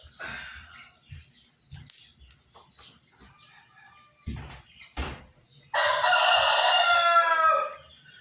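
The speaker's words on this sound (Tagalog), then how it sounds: "tumitila pa yung manok" A rooster crows once in the early morning, loud and fairly close, its long cry ringing out after a stretch of quieter background sounds.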